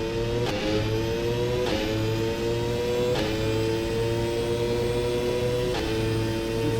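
A McLaren Formula 1 car's engine in the rFactor 2 racing sim, early-1990s F1 mod, droning at a steady high pitch with several brief gear-shift blips, continuous and close with no voices.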